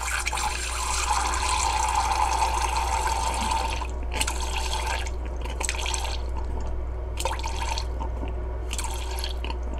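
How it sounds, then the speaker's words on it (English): Water pours and trickles steadily nearby into a homemade coconut oil lotion blend, with a few brief bursts and drips over a low constant hum, no voices. "So I'm going to add water to this."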